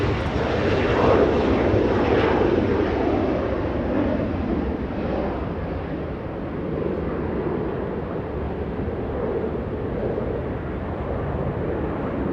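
Alaska Airlines jet arriving at Los Angeles International Airport, a loud, close engine roar that swells early and then eases into a long, steady rumble as it passes, with no voices.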